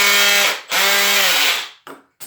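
A Milwaukee M18 brushless drill/driver whines loudly in reverse in two sustained bursts, then gives two short final blips, all close by with no talking.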